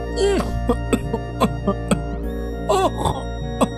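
A storyteller's voice imitates a man's violent coughing fit, a string of harsh, loud, close coughs with strained voiced gasps between them.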